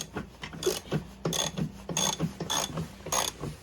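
A ratcheting wrench working loose the secondary clutch bolt on a Polaris Axys snowmobile, steady repeated clicking strokes in an even rhythm, close and clear with no talking.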